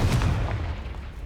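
A Confringo blasting spell explodes in Hogwarts Legacy, a single loud, close boom with a heavy low-end rumble that fades out over about a second, with no voices over it.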